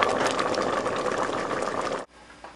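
Vegan chili with spinach bubbles and simmers in a crock pot, a dense steady hissing, bubbling wash for two seconds that cuts off abruptly, leaving quiet room tone.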